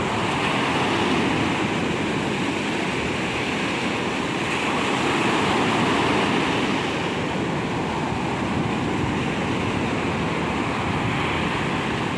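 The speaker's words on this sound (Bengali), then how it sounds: "বেশ ঢেউ, বেশ বড় ঢেউ আসছে।" Sea waves roll and break on a beach in a continuous, dense roar, with steady wind buffeting the microphone and no voices present.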